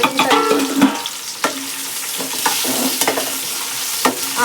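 Onions and green chillies fry with cumin seeds in a pan, a close, loud sizzle punctuated by repeated spatula scrapes and clinks as the mixture is stirred briskly.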